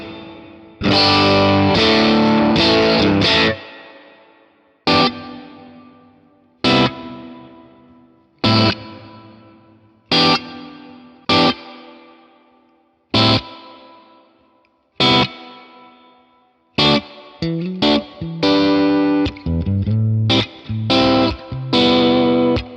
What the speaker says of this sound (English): you'll hear the reverb with the low end filtered out